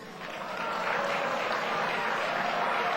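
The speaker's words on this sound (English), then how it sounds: "we heard some clapping and we heard some booing" Audience at a political speech on improving the African American community claps steadily, a dense wash of many hands that swells after the first half second and holds loud throughout.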